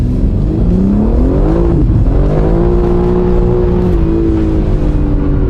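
A car's engine revs hard under full acceleration, its loud, close drone climbing in pitch, dropping at a gear change and climbing again without a break.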